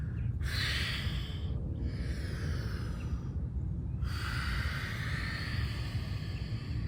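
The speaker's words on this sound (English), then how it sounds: "All that deep breathing, saturating the body in oxygen, drowning the muscles in the oxygen." Slow, deep breaths during a morning full-body stretching routine, with long airy inhales and exhales, close and steady against a constant low background hiss, no talking.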